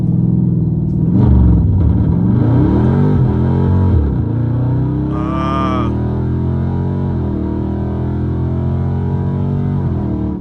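A Dodge Hellcat Scat Pack's engine revs hard against launch control, loud and close: a rising roar that falls back, then a steady high-rpm drone holds with a brief whine layered on top. Voices talk underneath.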